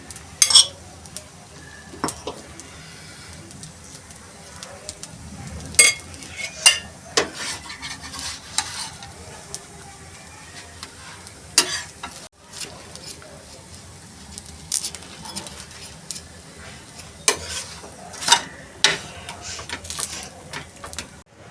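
Masala dosa cooking on a hot pan while potato bhaji filling is spread on, with soft sizzling, stirring and scraping clinks scattered through, and a voice talking over it at moderate level.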